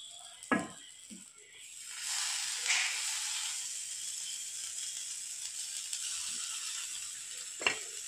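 Bread mini pizza topped with cheese and peas sits on a hot tawa over a gas flame, giving a steady faint sizzle and hiss with a few sharp clicks and knocks along the way.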